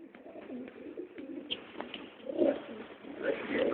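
Birds coo in soft, repeated low calls, several overlapping, with a couple of louder bursts partway through, outdoors and fairly close.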